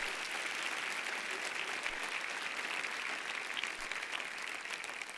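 A church congregation bursts into steady, dense applause during a sermon, a continuous crackle of many hands clapping at moderate volume with no speech over it.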